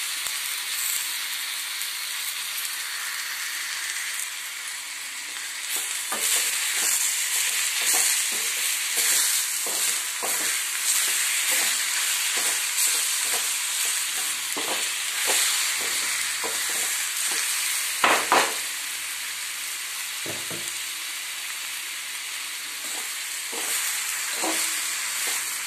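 Curry leaves fry in hot oil with a steady, loud sizzle and hiss that runs throughout, crackling more busily after the first few seconds, with occasional scraping of a stirring utensil.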